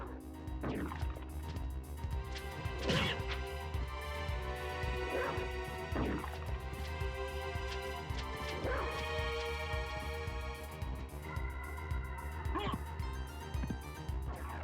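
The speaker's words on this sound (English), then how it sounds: "Nice bark." Short dog barks and yips sound in Castlevania: Symphony of the Night, repeating at irregular intervals over looping game music, moderately close and fairly quiet.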